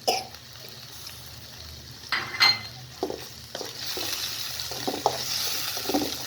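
Spice paste with ground coriander, salt and cumin paste frying in oil in a pan while being stirred, giving a soft continuous hiss with occasional spoon scrapes and knocks, close by.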